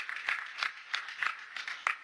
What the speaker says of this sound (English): Please let's give the Honorable Minister another resounding round of applause